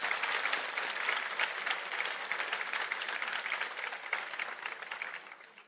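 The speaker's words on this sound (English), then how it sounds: "Can we have another round of applause for this committed lot?" Dense, steady applause from a large audience at a school annual day honoring the teachers, sustained and moderately distant, tapering off at the end.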